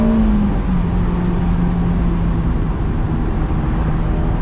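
A loud Honda S2000 (2007 AP2) engine drones and revs steadily up close in VTEC, its pitch climbing and holding as it pulls from second to third gear.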